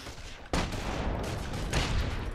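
Tommy gun bursts in the World War II video game The Saboteur, a loud sustained rattle of rapid gunfire starting abruptly and continuing with a second surge of shots near the end.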